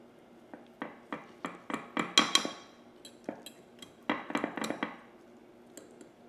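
Serving utensil clinking and scraping against a baking dish of spamchiladas, a string of quick close metallic taps in two bursts with a short pause between them.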